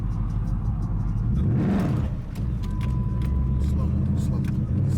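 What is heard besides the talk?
Dodge Challenger manual car driving off in first gear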